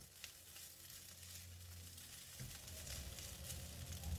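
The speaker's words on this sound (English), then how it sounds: "Sprinkle 2/3 of the chopped spring onions over the mushroom fried rice with tofu and stir." Mushroom fried rice with tofu and chopped spring onions sizzles steadily in a hot pan as it is stirred, a soft continuous frying hiss with a brief louder scrape of stirring partway through.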